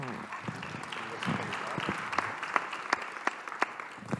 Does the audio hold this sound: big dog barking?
no